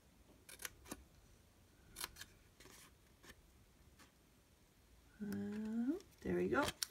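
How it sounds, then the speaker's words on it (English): Scissors make short crisp snips as small paper tabs are cut at the bottom of a scored paper box, several quiet cuts in a loose rhythm, followed by someone speaking. "you'll cut your little tabs at the bottom"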